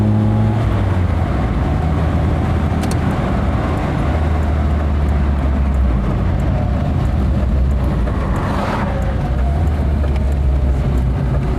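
A Lada Riva estate (VAZ 2104) engine lugs at low revs, a steady deep droning rumble heard from inside the car, loud and continuous with road noise and no talking.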